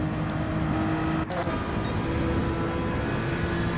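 A Honda NSX engine hums at speed on Watkins Glen in Gran Turismo 7, a steady, fairly loud drone with a brief dip in the middle as the car shifts or lifts.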